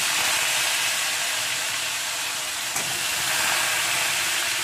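Potatoes tipped into hot oil tempered with five-spice, broken dried red chillies and a pinch of asafoetida, giving a loud, steady, close sizzle that holds evenly throughout.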